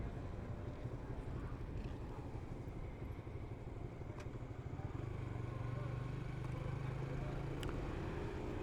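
Motorcycles and other vehicles pass steadily along a Dhaka street, a continuous low engine rumble filling the clip, with one bike's drone swelling closer midway before fading.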